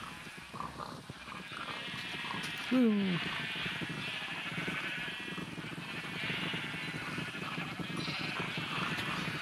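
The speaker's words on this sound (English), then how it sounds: "And go see the sheep, because we need wool." A single short sheep bleat from the Minecraft video game rises briefly out of steady game ambience and background music, with a person talking nearby over it.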